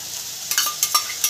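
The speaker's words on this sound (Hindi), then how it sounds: "ये मसाले का जो मिश्रण है इसको हम लोग अब अच्छे से भूज रहे हैं" Oil, cumin, bay leaf and spice paste being stir-fried in a kadai for a spicy potato and chickpea curry, a low steady sizzle broken by several short scraping stirs, close and moderately loud, with no talking.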